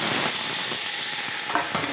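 Tempering spices sizzle and crackle in hot ghee for ghee rice, a dense continuous frying hiss with a few soft stirring knocks near the end.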